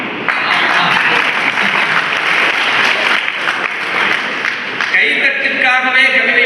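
An audience at a Tamil literary society gathering applauds after a Tamil poem recital. The clapping is loud, dense and sustained, close and continuous for several seconds, and a voice rises over it near the end.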